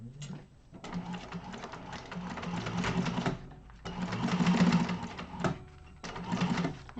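A sewing machine stitches a seam on a baby sling in bursts: rapid mechanical whirring runs for a few seconds, pauses briefly, then resumes, close and clear with no talk.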